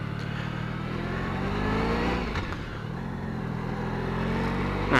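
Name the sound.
Honda ST 1100 motorcycle accelerating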